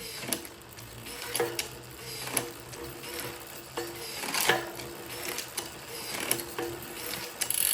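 A SRAM AXS electronic bicycle drivetrain shifts gears repeatedly, giving a series of sharp mechanical clicks and brief whirs at irregular intervals over a quiet background.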